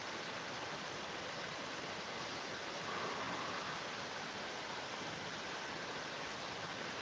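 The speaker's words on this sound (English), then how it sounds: "The sound of a little river there doesn't bother me at all." Small river flowing on a cold day, a constant broadband rushing wash, faint and unchanging throughout, with no voices.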